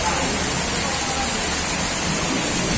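Heavy monsoon rain pouring down in Navi Peth, Pune, flooding the roads near Mhatre bridge; a steady, loud, dense broadband hiss of rainfall and running water continues without a break throughout.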